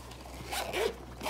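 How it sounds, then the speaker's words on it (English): A zipper on a knife case is pulled closed in one quick, close rasping stroke that swells briefly and stops, with no voices. "I had to zip this back up if you couldn't just hear, because I left it unzipped"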